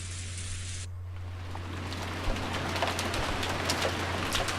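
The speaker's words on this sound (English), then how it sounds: "Outside, the rain was no longer falling weakly." Steady rain hisses down with scattered droplet ticks and a low hum beneath, in a mystery visual novel game, soft and continuous throughout without any voices.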